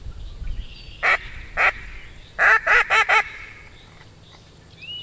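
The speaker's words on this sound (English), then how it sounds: "Always start a HRC test with a duck call." Duck call blown to open a hunting retriever water test: two single quacks, then a quick run of four loud, honking quacks close by, with faint outdoor background and no speech.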